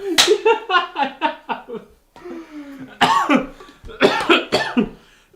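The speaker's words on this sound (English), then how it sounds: "probably peeking the mic with my coughing" A person coughs hard in rapid repeated bursts, close and loud, pausing briefly before another harsh fit of coughing.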